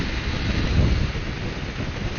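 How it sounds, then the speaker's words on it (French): Steady wind buffeting the microphone of a rider on a 125cc motorbike, a continuous low rumbling roar with no speech over it. "Oh, le vent, ouais."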